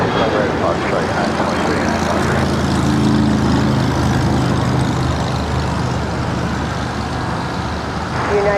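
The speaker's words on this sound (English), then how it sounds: "Runway 25 right at Foxtrot, cleared for takeoff. First takeoff, 25 right at Foxtrot, United" A United airliner on its takeoff roll from runway 25 right at LAX sends out a loud, steady jet engine roar that holds throughout, heard with radio chatter from air traffic control.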